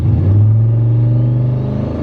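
A turbocharged LS-swapped GMC Envoy roars at steady high revs around 3,000 rpm with a deep droning rumble, loud and close, holding under heavy load during a launch that turns into a burnout.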